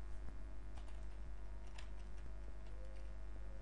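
Quiet keystrokes on a computer keyboard while an SQL query is entered, a steady scatter of soft clicks over a constant low background hum with no one talking.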